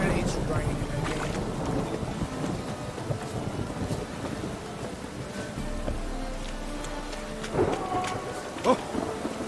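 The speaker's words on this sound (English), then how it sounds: "And it's raining again." Steady rain hisses through a stormy scene in the video game The Witcher 3, with a deep roll of thunder rumbling midway and a few sharper cracks near the end, the weather sound running on alone.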